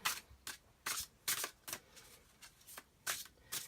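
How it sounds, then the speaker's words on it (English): Tarot cards riffle and slap in quick, close bursts, about eight shuffles in a loose rhythm with short pauses between them. "We're just going to shuffle a little bit more."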